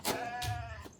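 A single sheep bleat, wavering and moderately faint, lasts about a second with no talk over it.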